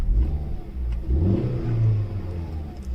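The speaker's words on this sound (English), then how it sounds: "Now this car has a really nice sounding engine" A 2013 Hyundai i10 Sportz hatchback with a 1.2-liter three-cylinder petrol engine starts and revs, a close, steady low mechanical thrum that rises and falls over a few seconds with no talking.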